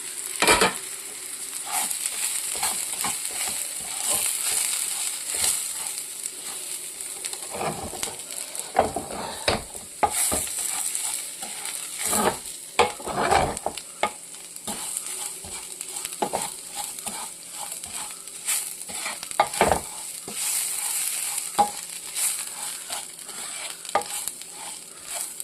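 Bajra flax upma being stirred in a pan, a continuous close sizzle broken by frequent scraping and clattering strokes of the spoon against the pan, steady throughout with no talk.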